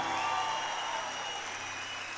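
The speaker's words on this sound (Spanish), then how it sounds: "Si va a aplaudir, aplauda y dé un grito de júbilo." A church congregation applauding and cheering, steady dense clapping and crowd noise that holds throughout without pause.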